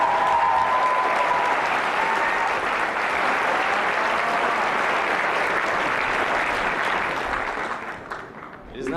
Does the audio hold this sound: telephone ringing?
no